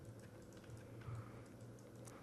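Computer keyboard keys tap in a loose, irregular rhythm during 3D modelling work, faint clicks over a low steady hum with no talk.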